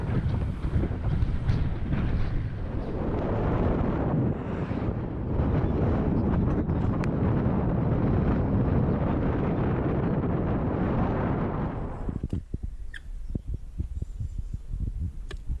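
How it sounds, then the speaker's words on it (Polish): Strong side-tail wind during a bicycle trip roars and buffets the microphone in a loud, steady rush, easing off near the end to quieter gusts and rustling. "co prawda wiatr silny wieje"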